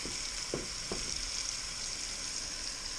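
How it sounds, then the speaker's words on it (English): Vegetables, including onion, sweat in a pan for a haddock and tomato fish soup, giving a soft continuous sizzle with a few quick stirring clatters near the start. "We are going to sweat these vegetables."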